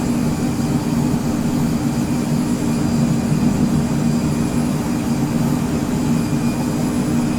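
Twin jet engines of an Embraer Phenom 100 in Microsoft Flight Simulator, a steady, loud, low-pitched drone with a constant whine above it, unchanging throughout and heard without any talk.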